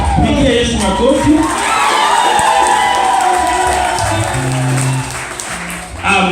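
A church congregation at a Tanzanian worship service claps and cheers for Jesus, sustained loud applause with whoops and shouting voices mixed in throughout.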